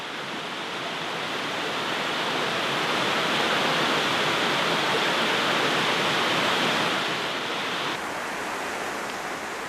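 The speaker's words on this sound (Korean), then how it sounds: "금방이라도 버진강의 거대한 물길 속에 휩쓸릴 것만 같습니다." The Virgin River rushes through the Subway canyon in Zion, a steady, dense roar of flowing water that swells slightly in the middle and eases near the end, with no voices.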